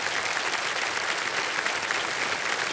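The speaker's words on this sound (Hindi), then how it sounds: "और तालियां बज जाए इनके लिए।" Studio audience on Kaun Banega Crorepati clapping in steady, dense applause that holds evenly at full strength throughout, with no talk.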